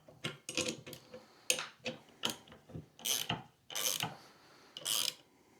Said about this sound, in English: I'm going to switch back to the bolts, tighten them up just a little bit at a time, about a half a turn at a time.